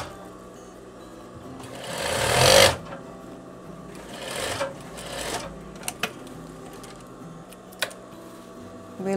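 A sewing machine stitches a seam on a veterinary coverall, running in a loud burst and then a shorter, softer run, with light clicks and handling noises between.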